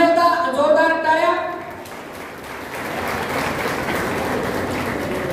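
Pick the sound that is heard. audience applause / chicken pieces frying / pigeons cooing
audience applause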